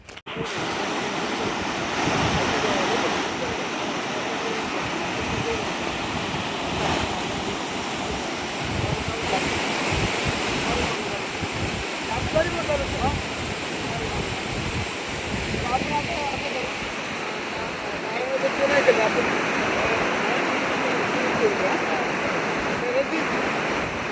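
Water rushes in a heavy, continuous roar as it pours out of the Manikdoh dam, loud and steady throughout with gusty wind noise across the microphone.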